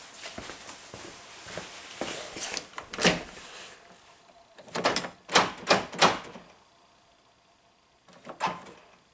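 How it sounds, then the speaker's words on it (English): Toyota power door locks on the driver's door actuate with several sharp mechanical clacks and thunks, some in quick clusters of three and a single one near the end, set against a quiet background. "You can hear all the locks go ka-ching."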